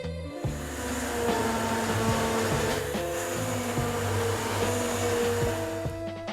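A hand blender whirs loudly as it purées pumpkin soup vegetables in the pot, starting abruptly and running continuously with a steady motor whine and slight pitch shifts, with no voices over it.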